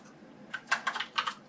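A quick run of about six or seven crisp keystrokes on a computer keyboard, typing a flashing utility command for a Dell H200i storage controller, close and fairly quiet with short gaps between taps.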